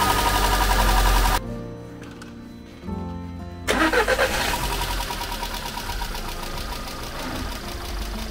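A Skoda car engine cranks and fires up, a loud burst of mechanical noise after a short rumble, then settling into a steady idle with knocking texture; no talking.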